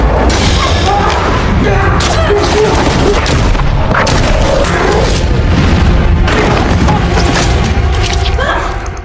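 Loud, dense bursts of gunfire and booming blasts overlap continuously, with a voice talking underneath the chaotic noise.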